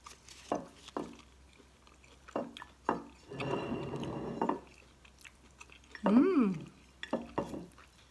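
Someone chews and bites a soft, sticky Thai dessert made with glutinous rice flour, close and quiet, with several short wet mouth sounds, a longer chewing stretch and a brief vocal hum.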